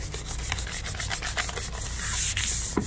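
Very fine grit abrasive rubbed back and forth over a surface in a workshop, a steady dry scratching hiss of quick repeated strokes, close and fairly loud, with no talking.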